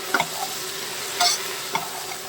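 Onion, lemon and salt mixture being stirred and fried in a pan, with faint scraping stirs and a soft steady sizzle, a few sharper clinks standing out.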